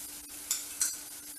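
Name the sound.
syrup boiling in a pan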